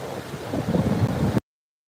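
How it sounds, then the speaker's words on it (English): Ocean surf rushes and churns on a beach at Pensacola, with wind buffeting the microphone for about a second and a half, then cuts off abruptly into silence. "Oh, the sound of the waves, so soothing."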